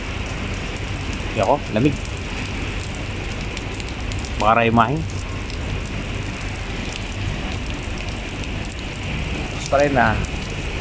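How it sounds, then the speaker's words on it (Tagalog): Heavy rain pours steadily in Abu Dhabi with strong wind, a dense continuous hiss close by, while a person speaks briefly in short phrases over it. "Lakas yung patak ng ulan. Lakas din yung hangin."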